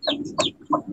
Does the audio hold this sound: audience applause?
no